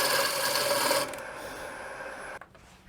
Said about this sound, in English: Let's do a little peel cut down here for this tenon.